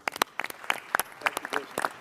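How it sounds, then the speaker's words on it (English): Applause at a roundtable with hospitality and tourism leaders: a small group clapping sparsely, with distinct, uneven close claps rather than a dense wash, and faint voices underneath. "I think that's worth a round of applause."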